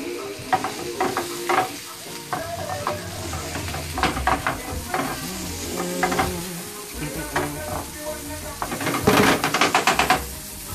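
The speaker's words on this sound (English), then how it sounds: "Want the onions to get nice and brown crispy?" Onions fry in a pan toward brown and crispy, giving a continuous close sizzle broken by repeated scrapes and clanks of stirring, louder near the end, with no talking.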